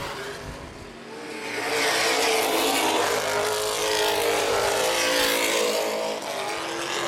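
NAPA late model race cars roar around the half-mile oval at Baer Field Speedway, a loud sustained engine wail swelling as the field passes in single file.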